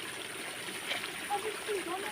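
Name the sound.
hand-washing laundry under running taps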